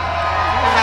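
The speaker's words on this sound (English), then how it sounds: "And obviously we have a Red Bud crowd here. You can hear them right now very loud" A loud crowd at the Red Bud motocross race, cheering and whooping as a sustained roar over a brief moment.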